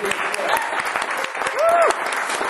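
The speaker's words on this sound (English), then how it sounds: "Let's give Him a hand clap of praise." A church congregation claps in praise, a dense, steady wash of hand claps filling the space, with a voice rising briefly above it partway through.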